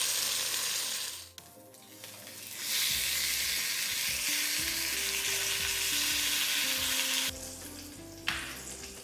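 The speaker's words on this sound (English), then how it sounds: "the reason that we're searing the short ribs for this dish is because it develops flavor in the dish" Short ribs searing in a pot, a loud continuous sizzle and crackle that cuts out briefly at the start and again near the end, with some low tonal background sound underneath.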